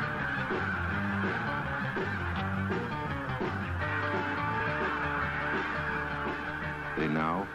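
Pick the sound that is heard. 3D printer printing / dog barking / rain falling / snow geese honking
snow geese honking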